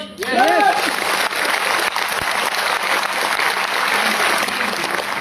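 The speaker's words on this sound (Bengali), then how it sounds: "একবার আমাদের জন্মদাতা মা এবং বাবাদের জন্য একবার জোরদার ক্ল্যাপিং করতে পারি?" Sustained audience applause at an indoor business gathering, clapping for parents after a call from the stage, loud and steady throughout after a brief voice at the very start.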